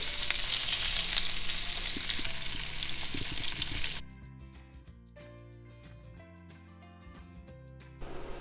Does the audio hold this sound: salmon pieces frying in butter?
yes